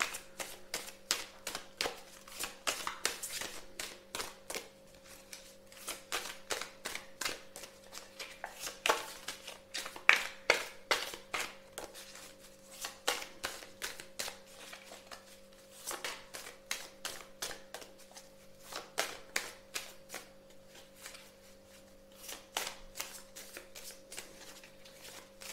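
Cards shuffled for a card reading, a steady run of quick crisp riffling flutters repeating over and over at close range, fairly quiet against a faint steady electrical hum, with no talking.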